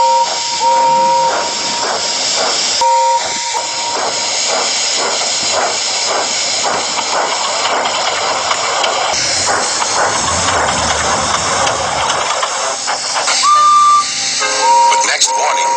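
Loud, steady hissing of steam, with brief whistle-like tones cutting in and out near the end.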